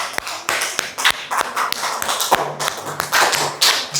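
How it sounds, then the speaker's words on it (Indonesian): A school class claps for a group of classmates in a scattered, uneven burst of hand claps, fairly close and irregular, with no talk over it. "Tepuk tangan semua buat kelompok ini."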